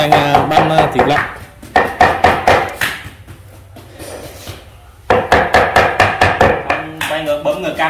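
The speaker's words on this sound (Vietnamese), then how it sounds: "Anh đang băm thịt lợn." Rapid rhythmic knife chopping of pork mince on a board in bursts, pausing in the middle, with a brief stretch of quieter background noise before the chopping resumes.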